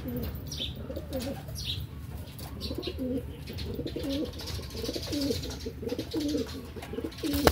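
Pigeons coo steadily and repeatedly close by, their low rolling calls continuing through the whole stretch with a few faint chirps and light rustling behind them.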